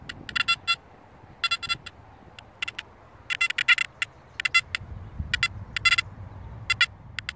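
Makro Kruzer metal detector held still in 4-tone mode, its coil not swinging, giving a constant hum with bursts of bright electronic tones that recur irregularly and fairly loudly over a steady background.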